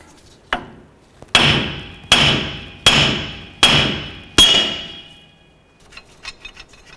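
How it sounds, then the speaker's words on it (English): A hammer strikes the top of a steering knuckle on a 2007-2017 Jeep Wrangler to free the lower ball joint: one light tap, then five loud, evenly spaced metallic blows with ringing decay, followed by faint rattling. "I'm going to go ahead and strike the top of the knuckle here to release the tension on the ball joint"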